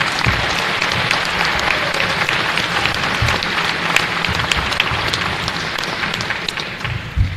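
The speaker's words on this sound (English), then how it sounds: "Now, I ask you for their applause." A banquet audience at a sports hall of fame ceremony applauds honorees, dense sustained clapping from many hands filling the room at close range for several seconds.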